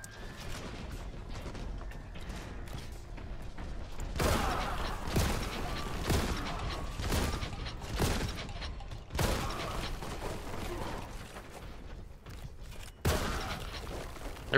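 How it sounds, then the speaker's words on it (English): Shotgun blasts from the Warhammer 40,000 Boltgun video game, a few loud, sharp bursts spaced several seconds apart over a dense bed of ongoing game noise. "I really like this shotgun, man."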